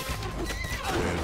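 A horse neighs in the fantasy multiplayer game Knight Squad, its whinny rising over busy game sounds and clopping hooves in a short, loud burst with no talk.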